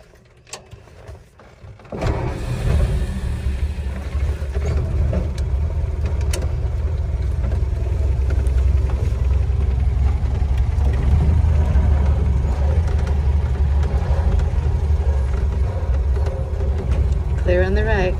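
A 1931 Ford Model A starts and is driven in cold weather, its engine rumbling loud and close under a constant low drone as gears are shifted, while people talk over it.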